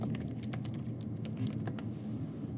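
Rapid typing on a computer keyboard while a spreadsheet file is being renamed, a steady run of light clicky keystrokes over a soft background hum.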